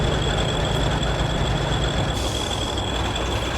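The diesel engine Boko pulls up in the Trainz railway game: a steady, loud rolling rumble of rail running with a thin, high wheel squeal held throughout, shifting slightly partway through.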